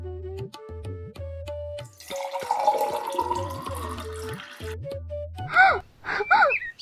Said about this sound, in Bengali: নাও তুমি আমার কলসিটা ধরো আমি আমার কলসিতে রস ঢেলে নিই